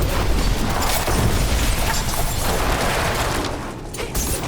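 Rogue knife and barrage attacks in the Diablo IV video game form a dense, loud wash of rapid impacts, bursts and clattering combat effects that continue without pause.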